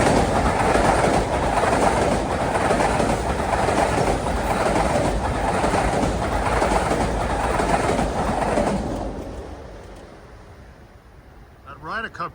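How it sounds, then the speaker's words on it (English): A Long Island Rail Road passenger extra rolls past at Queens Village, a loud, steady rumble with rhythmic wheel clatter for about nine seconds before fading away, followed by a few faint chirps. "That Ryder Cup train was a passenger extra."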